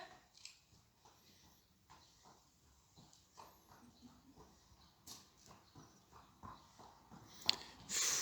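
A horse's hooves clip-clop at a moderate distance in an irregular walking rhythm, soft and fairly quiet, with a brief sharper knock near the end.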